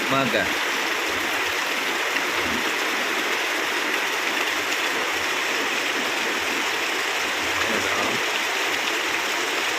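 Steady morning rain pouring down on calamansi plants, a dense, even hiss that stays loud and unbroken, with faint low rumbles underneath.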